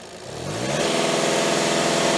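A VAG car engine with a fault that sends smoke out of the oil filler neck and dipstick, revving up from a low idle into a loud, sustained high-rpm roar, close by with no talk.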